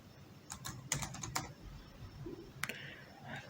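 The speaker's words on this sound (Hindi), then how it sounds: "पासवर्ड जो है हम यहाँ पे टाइप कर लेते हैं" Soft typing on a laptop computer keyboard as a password is entered, with scattered quick keystrokes and short bursts of taps, close and quiet, with no talking.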